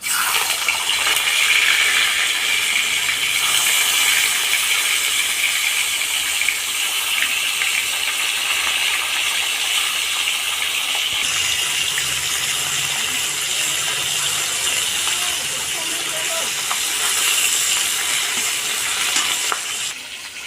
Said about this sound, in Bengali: তেলটা গরম হয়ে গেছে, এবার আমি একটা একটা করে মাছ ছেড়ে দিচ্ছি।